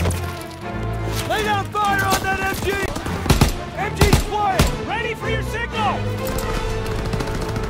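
Machine gun fire in the Call of Duty WWII campaign: loud, close bursts of rapid gunfire crack repeatedly while soldiers shout over the shooting.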